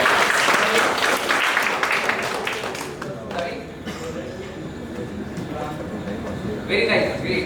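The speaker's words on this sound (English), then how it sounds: "Round of applause, guys." Dense applause from an induction ceremony audience fills the room, easing slightly midway and swelling again near the end, with talk mixed in.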